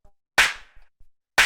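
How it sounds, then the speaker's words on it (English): A clap sample from a house music drum track strikes twice, a second apart, each hit crisp and bright with a short decaying tail, and faint low thumps tick between them. "You can see first thing is the clap,"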